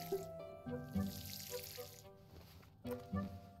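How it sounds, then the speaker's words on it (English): Plants are watered in the video game Paleo Pines, with a soft, steady splash of game water playing under quiet music in short repeated bursts. "Gotta water my plants."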